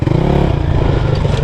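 A dirt bike engine drones loud and close in a steady, slightly rough note on a mountain trail in Nepal, with light rattling and clatter and no talk.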